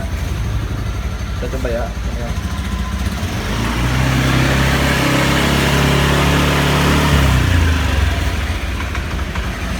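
A used Honda Beat automatic scooter idles close by, then its engine is revved for a few seconds into a louder, rising drone before dropping back to idle, while someone talks over it.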